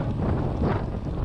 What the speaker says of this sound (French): Là on a un petit vent de 3/4, à l'aller on avait vent de face.